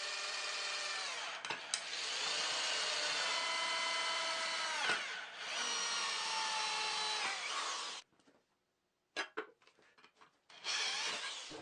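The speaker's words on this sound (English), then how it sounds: "But that means I have to drill some extra holes." A power drill whines steadily through plastic for several seconds, pitch dipping under load, then a pause and a few short bursts of drilling, close by.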